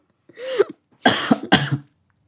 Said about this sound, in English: Oh god, the coughing's back.